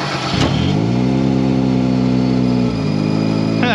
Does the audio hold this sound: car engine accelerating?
yes